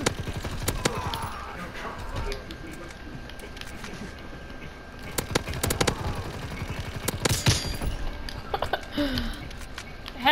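Gunfire in the Call of Duty WWII video game, including a powerful shotgun, comes as repeated sharp cracks and bursts scattered across a busy game soundscape with faint background voices.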